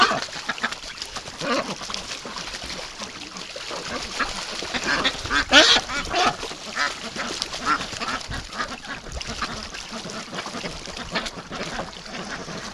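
A flock of white Pekin ducks quacks excitedly and splashes in a bathtub pen, a dense, continuous racket of overlapping calls and water noise close by.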